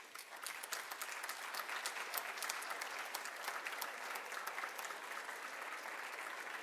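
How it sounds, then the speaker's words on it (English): An audience at a high school Veterans Day program claps steadily for military veterans and active service members walking to the stage, a continuous dense applause at moderate distance. "Y'all keep clapping for these men and women"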